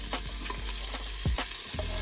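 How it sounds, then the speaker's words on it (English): Onions sauté in hot oil with a constant bright hiss, and a spatula scrapes through them several times in short, regular strokes. "So first I'm gonna heat a little bit of oil so I can saute. I'm gonna put onions first"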